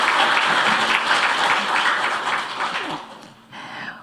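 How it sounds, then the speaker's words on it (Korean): A forum audience gives a dense round of applause for legislator Lee Heon-seung at a veterans' compensation policy forum. The clapping is loud and steady, then thins and fades toward the end. "다시 한번 우리 이헌승 의원님께 감사의 인사와 박수를 드리겠습니다"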